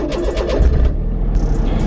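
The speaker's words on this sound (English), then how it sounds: "So let's start her up." A right-hand-drive Honda Beat, a tiny 1990s kei car, cranks and its small engine catches, settling into a steady close idle rumble with no talk over it.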